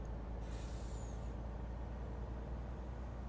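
A modded 650-horsepower truck in Farming Simulator 19 releases a single sharp hiss of its air brake, about a second long, over a steady low engine rumble.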